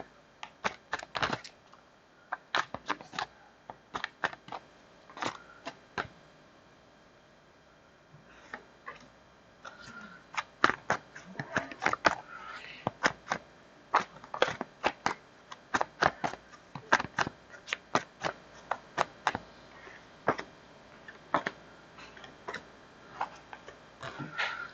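Tarot cards being shuffled by hand in a series of sharp, crisp riffles and flicks in uneven bursts, some clustered fast, others spaced by short pauses, close and fairly quiet with no talking.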